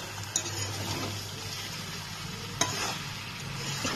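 Chicken pieces and potatoes stir-fried in a pan for a home-style desi chicken curry, a soft steady sizzle with scraping stirs and a couple of sharp clinks of the spoon against the pan, no voices.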